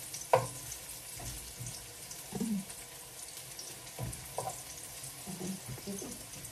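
Garlic and onion fry in a pan with a soft, faint sizzle broken by a few louder stirring scrapes and clinks, no voices.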